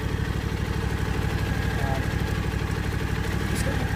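A John Deere riding mower sits with its engine idling close by, a steady, loud, pulsing mechanical chug that runs evenly through the whole stretch.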